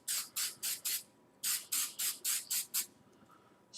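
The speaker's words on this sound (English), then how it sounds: "spray over it like that." Short hissing bursts of an aerosol spray can, about ten quick pulses in two groups with a brief pause between, close and steady.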